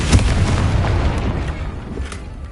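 A Confringo blasting spell explodes in Hogwarts Legacy on PS5, a close, loud boom with a rumbling low-end tail that fades out over about two seconds.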